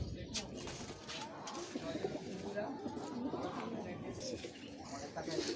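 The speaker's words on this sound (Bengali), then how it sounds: "ভাইয়ের নিজের কিছু গররা কবুতর আছে" Gorra breed pigeons coo softly in a home loft, low throaty murmurs blending with background voices and ambient noise throughout.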